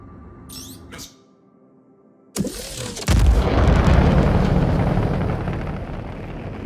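In the space game Star Citizen, a missile fires with a sharp burst, followed by a heavy, loud roaring explosion that sustains and slowly fades, after a quieter stretch of faint electronic beeps.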